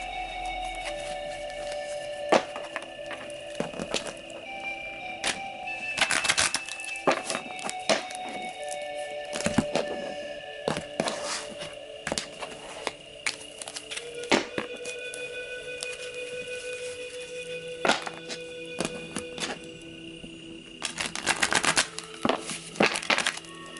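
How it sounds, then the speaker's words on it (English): Tarot cards shuffled by hand give repeated crisp riffles and snaps, close and distinct, over a quiet background with a faint steady hum. "Okay, I'm going to shuffle."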